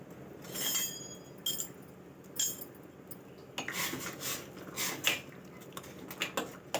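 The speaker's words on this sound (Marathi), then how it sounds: "आता हे छान चमच्याने आपण एकजीव करून घेऊया।" A metal spoon stirs onion, chilli, garlic and cashews in a pan, giving a run of scattered clinks and scraping taps at close range, irregular and fairly soft, with no talking.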